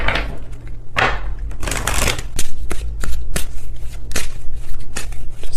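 Tarot cards are shuffled in a series of crisp riffling bursts and soft slaps, close and clear, repeating in an uneven rhythm with no talking.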